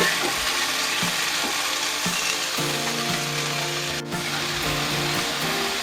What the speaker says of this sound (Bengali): তো একসাথেই সব সবজি দিয়ে আমি কষিয়ে নিচ্ছি।